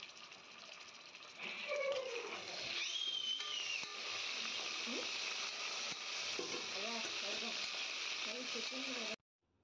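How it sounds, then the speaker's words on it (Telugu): Ginger garlic paste frying in a pan for prawn biryani, a constant close hiss and sizzle with occasional stirring scrapes and a faint voice in the background. "తర్వాత అందులో కొంచెం అల్లం వెల్లుల్లి పేస్ట్ వేసుకుని పచ్చివాసన పోయే"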